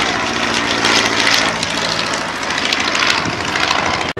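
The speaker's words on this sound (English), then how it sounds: "you can see the upper surfaces of the aircraft as it goes past" A display aircraft passes during an air show at Old Warden, its steady engine roar loud and close throughout, swelling slightly as it goes by before cutting off abruptly at the end.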